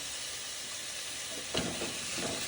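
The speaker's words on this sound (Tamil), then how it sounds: "தக்காளி வதங்குறதுக்காக கொஞ்சம் உப்பு போட்டுக்கலாம்" Five finely chopped tomatoes with a pinch of salt sautéing in a pan, a soft, steady hiss of frying with a brief stir scraping through it midway, close and quiet, with no voices.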